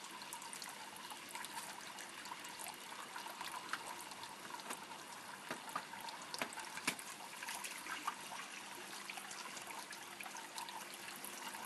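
A wet sharpening stone turns in a water-filled trough, producing a steady, continuous watery splashing and trickling hiss with small irregular drips throughout, moderately faint and without talk.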